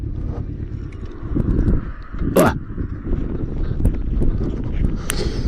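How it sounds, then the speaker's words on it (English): Gusty wind buffets the microphone outdoors in Elgin, Scotland, in heavy low rumbles, with a voice speaking intermittently underneath and a sharp knock partway through. "you see how windy it is today"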